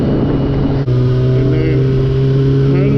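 A car engine roars loudly under full throttle, holding strong steady harmonics after a brief dip as it keeps pulling, with a voice speaking over it.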